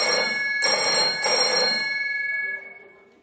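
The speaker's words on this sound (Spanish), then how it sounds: "sonó el timbre de nuestro súper teléfono para Pilar." A telephone bell rings on a Spanish TV dating show, sounding in repeated bursts of bright metallic ringing that fade out after about two and a half seconds, loud and near, with no talking.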